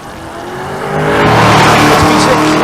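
A V6 rental car races at State Capitol Raceway, engine note swelling loud and close as it accelerates, roaring through a rising rev with crowd-like noise around it.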